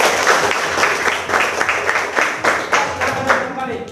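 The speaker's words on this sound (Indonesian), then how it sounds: "oke, tepuk tangan dulu semua" An audience breaks into brisk, dense clapping at a morning talk on stopping bullying, steady and close for the whole stretch with no voices over it.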